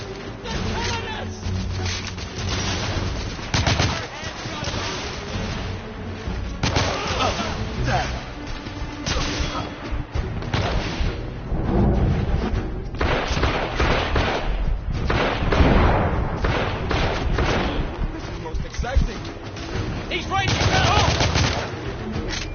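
Heavy, sustained gunfire in a video game firefight, loud overlapping blasts and rattling bursts filling the whole stretch, with speech faintly mixed in.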